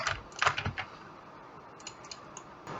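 Quick clusters of computer keyboard key presses and mouse clicks during Blender modelling, close and fairly quiet, with a burst of taps at the start, a sparse pause, then a few more clicks.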